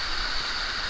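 Little Dunn's River waterfall in Ocho Rios, Jamaica, rushes in a steady, full broadband roar of falling water, close and continuous with no break.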